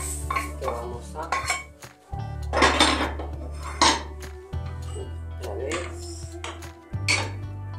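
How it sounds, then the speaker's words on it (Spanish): Macaroni and mushrooms stirred in a pan, a utensil knocking and scraping against the metal in repeated clattering bursts, close up, with a low steady hum underneath. "Vamos a revolver esto."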